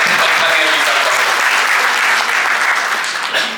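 Loud, sustained applause from the audience at a retirement ceremony honouring a gold medal–winning engineer, a steady wash of many hands clapping close by that eases slightly at the end.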